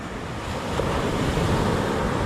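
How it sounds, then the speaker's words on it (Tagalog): Sea waves churn near a boat offshore, a loud steady broadband wash with low rumbling surges, close and continuous, with no voices. "Yan ang alon mga kalibre oh."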